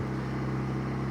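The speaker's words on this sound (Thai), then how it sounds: "ไม่เคยได้ยินเสียงรถกระบะ ที่มันเป็นเสียงที่มันสมจริงขนาดนี้มาก่อน" A steady, low pickup truck engine drone from a car parking video game hums continuously at an even pitch, close and moderately loud, with no voices present.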